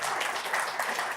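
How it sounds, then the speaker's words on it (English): Brief, steady clapping from a conference audience welcoming two presenters to a technical talk on Bluetooth, dense and even for about a second. "please give a warm applause for those two guys to present."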